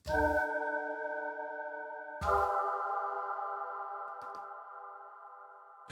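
Two sustained chords, each with a soft attack, swell into a long, spacious digital hall reverb tail with audible pre-delay that slowly fades, with faint clicks near the end.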